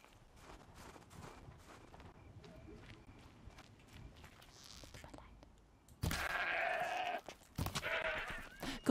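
A goat in Horizon Zero Dawn lets out a loud, wavering bleat partway through, following quiet footsteps and faint rustling, with a second shorter call after it.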